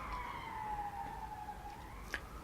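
Sirens wail outside, a fairly faint, distant rising-and-falling tone that sweeps slowly down and back up over a low background rumble, with a brief tap near the end.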